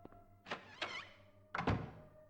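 Locked door in the Silent Hill video game giving a couple of dull thunks with rattly tails, faint and isolated against quiet background ambience.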